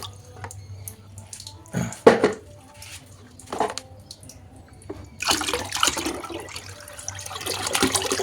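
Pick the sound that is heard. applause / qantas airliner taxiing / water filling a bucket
water filling a bucket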